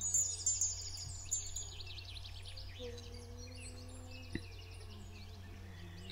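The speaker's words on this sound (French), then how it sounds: "avec ce chant des oiseaux." Birds chirp and trill high overhead, steady layered birdsong at a moderate distance over a low constant hum.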